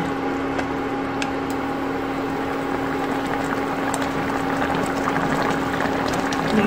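Braised tofu and pork sauce simmering gently in a pot, a steady soft bubbling hiss with a faint constant hum underneath, close and continuous without talk.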